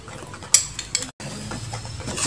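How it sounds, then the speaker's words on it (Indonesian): Honey-sweetened date pancake batter being stirred in a pan over low heat, with soft scraping and a couple of light utensil clicks against the pan, close and fairly quiet. "Kita aduk lagi."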